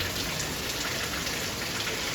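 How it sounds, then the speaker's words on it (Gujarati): Heavy rain pours down in an even, unbroken hiss, dense and close, with no voices. "વરસાદ આવે"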